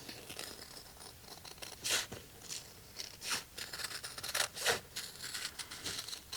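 Scissors snip around fabric pieces for a layered sea turtle appliqué on a sweatshirt, giving a series of crisp, close cuts with soft rustling between them and no talking.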